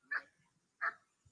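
Two sharp barks from a dog, reportedly an XL Bully protection dog, sound from a played recording, spaced about 0.7 seconds apart with quiet between them.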